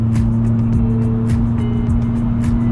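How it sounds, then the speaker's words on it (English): A supercharged Jaguar F-Type engine hums steadily and then revs in short bursts on downshifts, close and loud, with a low droning tone throughout and no voices. "What I'm gonna do is I'll downshift this thing and go."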